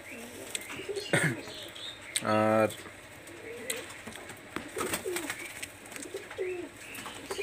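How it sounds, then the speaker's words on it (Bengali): Kamagar pigeons, Pakistani high flyer teddy birds, coo softly in a loft, with one louder, throaty burst of cooing standing out while someone talks over the birds throughout. "এটা হলো আপনার কামাগার কবুতর, রানিং পেয়ার কবুতর"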